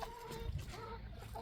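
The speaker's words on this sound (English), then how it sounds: "come on, chickens" Backyard chickens give a brief burst of soft, close clucking over a low, even background.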